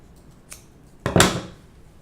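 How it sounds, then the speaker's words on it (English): Scissors snip threads on a sock owl, a faint small click followed by a louder, close crisp cut, nothing else around. "I'll just trim those threads."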